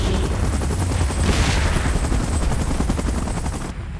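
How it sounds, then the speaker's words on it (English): A helicopter beats loudly and steadily for several seconds, with its rapid rotor pulses mixed into a dense, noisy roar that ends abruptly. "Chopper in position."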